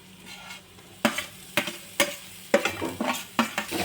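Paneer being stirred in a hot pan for paneer paratha: a faint sizzle underneath, broken by five or six sharp scraping spoon strokes at uneven intervals, close by, with no talking.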